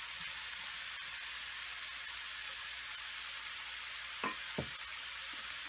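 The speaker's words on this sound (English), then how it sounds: "You can saute the vegetables for about 2 minutes" Vegetables including capsicum, carrot, peas and corn sautéing in a pan for pasta, a faint, even sizzling hiss throughout with two brief stirring knocks near the end.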